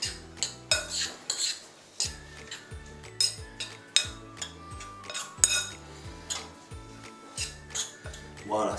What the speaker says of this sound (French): On va bien remuer.